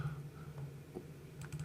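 Quick keystrokes on a computer keyboard, entering a drawing-data shortcut in detailing software, clicking softly over a steady low hum.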